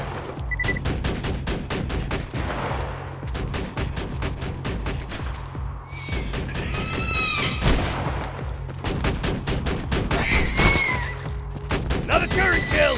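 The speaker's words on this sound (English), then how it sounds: "Another turret kill!" Rapid bursts of sentry turret gunfire from Borderlands 2 on PC crackle in dense, sustained volleys, loud and continuous, with layered combat effects and electronic whines throughout.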